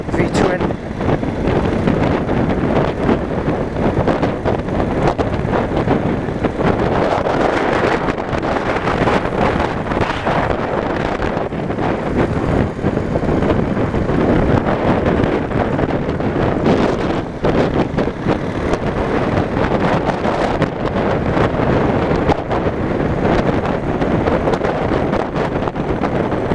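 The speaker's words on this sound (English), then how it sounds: "It is a little bit windy as we're driving" Steady, loud wind roar buffeting the microphone throughout, the constant rush of air while riding a Yamaha Wildstar 1600 V-twin motorcycle at speed in Cyprus.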